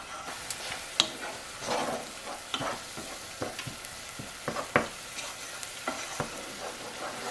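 Garlic sizzles softly in a pan while being stirred with a utensil, a steady low frying hiss broken by irregular clicks and scrapes, close and fairly quiet, with no talking.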